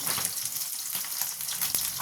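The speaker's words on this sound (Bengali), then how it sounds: "এইটাতে আমি কালো জিরে ফোড়ন দিয়ে দিলাম, কাঁচা লঙ্কা ফোড়ন দিয়ে দিলাম।" Nigella seeds and green chillies hit hot oil as a tempering, giving a steady, close hiss of sizzling that fills the short clip with no talking.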